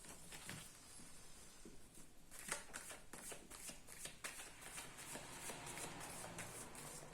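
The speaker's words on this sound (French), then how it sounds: "je fais un tirage hop, en 9 cartes pour cette semaine" Tarot cards shuffled by hand ahead of a nine-card weekly reading, a steady run of soft riffling and patting strokes that carries on without a break, close and quiet, with no speech.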